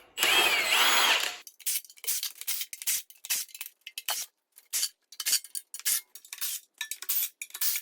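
Hand tools work on the oil pan of a 1955 Ford Thunderbird engine during teardown: a burst of loud power-tool whirring, then a string of sharp metallic clinks, clanks and rattles of parts and wrenches with brief pauses, close up and no talk.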